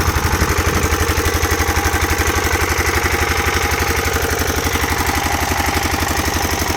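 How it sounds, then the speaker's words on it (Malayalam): A diesel engine runs steadily up close, a loud, even chugging throb that continues without a break; a diesel motor driving a borewell pump on a farm in Bahrain. "ഒരു കുഴൽ കിണർ ഡീസൽ ഉപയോഗിച്ച് മോട്ടോർ പ്രവർത്തിക്കുന്നു"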